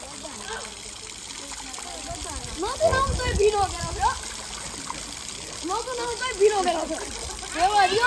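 Water pours and splashes while children are bathed outdoors on a hot day during a temple pilgrimage trip, a steady gushing trickle with intermittent splashes, and voices talking and laughing over it.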